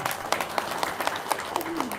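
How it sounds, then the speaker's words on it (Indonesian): Audience applause after a talk at a religious gathering, a steady patter of clapping lasting the full two seconds, moderately loud, with a voice briefly audible over it. "tepuk tangan dong"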